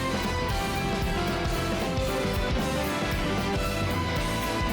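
Climax of a Jujutsu Kaisen anime soundtrack piece, where strings take over the theme in a louder, drawn-out version over thick, driving percussion and a dense orchestral backing that stays at full volume throughout.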